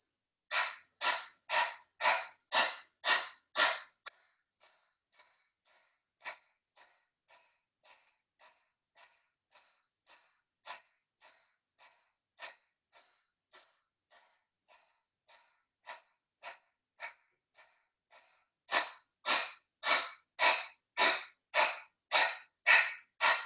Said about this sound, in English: start by breathing in and you breathe out